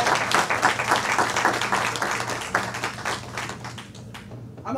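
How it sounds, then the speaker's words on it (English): Funeral congregation applauding a family at a memorial service, a steady patter of many hands that holds throughout and then thins and fades toward the end, with a low hum underneath. "Can y'all do me a favor and applaud this family for the care that they gave to Mr. Bell?"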